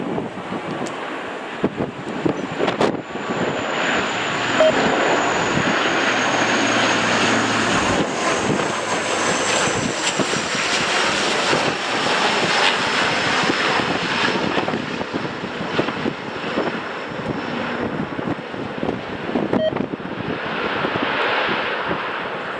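A fixed-wing airliner making a landing approach in strong gusting winds, its engines droning steadily at a distance under heavy wind buffeting on the microphone, continuous throughout with no voices.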